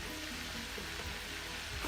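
Plantain slices for tostones frying in hot oil, a steady dense sizzle with soft crackle running unbroken and fairly quiet throughout, with no talking.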